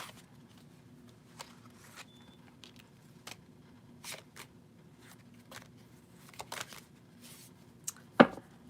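Tarot cards being shuffled by hand, producing soft intermittent riffles and taps, quiet and sparse, ending in one sharper slap.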